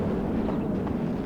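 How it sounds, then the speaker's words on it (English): A tank explodes in the real-time strategy game WARNO, a dense, sustained low rumbling blast filling the whole short moment with no voices. "AT-SU-25 comes forward and gets a fat shot on the M1A1A cab and explodes"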